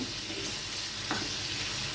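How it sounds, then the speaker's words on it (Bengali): Pieces of steamed elephant foot yam fry lightly in hot oil in a pan, producing a dense, even sizzle up close with one brief scrape of stirring partway through. "ওলটা হালকা ভাজা ভাজা করে নেব"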